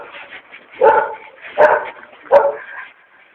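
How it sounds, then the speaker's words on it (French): Three loud, close barks from a German shepherd dog, evenly spaced about a second apart, with no one talking. "un berger allemand, ça monte bien la garde"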